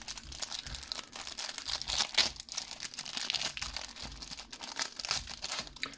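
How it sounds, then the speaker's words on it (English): A foil trading card pack from the 1995 Judge Dredd movie set is torn open, its wrapper giving close, irregular crinkles and crackles in quiet surroundings. "Got some good crinkling going on."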